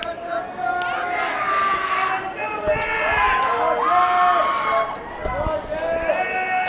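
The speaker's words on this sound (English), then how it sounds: "the crowd is going wild for Varsity boys" Spectators at a high school varsity swim meet at Arcadia shout and cheer loudly for the boys' race, with voices layered into a sustained, excited din and higher whoops rising above it.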